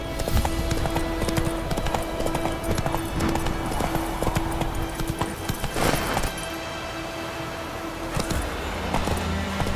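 Roach the horse gallops in The Witcher 3, giving steady, rapid clip-clop hoofbeats that come close and loud against an ambient game background, fading near the end.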